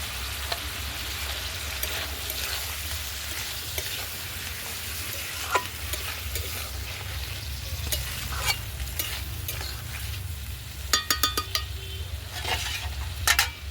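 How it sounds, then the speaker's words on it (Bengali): Washed eggplant pieces and salt fry in oil rendered from fish in a pan. A loud, close, steady sizzle goes on throughout, with stirring scrapes and a quick run of metal clinks near the end. "আর একটু ভালো করে ভেজে নেব।"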